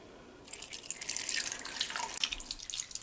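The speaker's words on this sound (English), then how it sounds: "now we just pour water" Water pours steadily into a pot holding onions, garlic, potatoes and carrots, a continuous splashing trickle that starts after a brief quiet moment and runs to the end.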